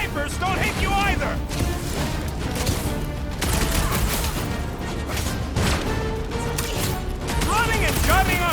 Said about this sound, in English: Running and gunning on rooftops!